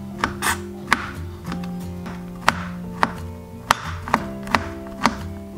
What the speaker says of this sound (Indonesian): Dan ini kita potong dulu tempenya ya.